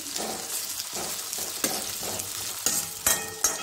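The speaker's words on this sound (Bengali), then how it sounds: "আমার ভাজা হতে থাকছে।" Ground spices with amchur powder and tomato paste sizzle steadily in a pan for masala chana, with spatula scrapes and a few sharp clinks toward the end; no one speaks.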